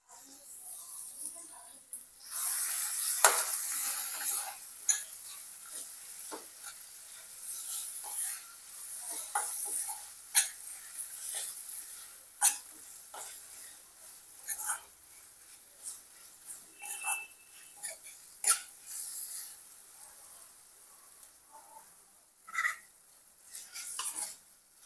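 Green chilies, mint leaves and fenugreek leaves sizzle softly in a pot on a low flame while a spoon stirs them, making intermittent scraping and crackling sounds close by.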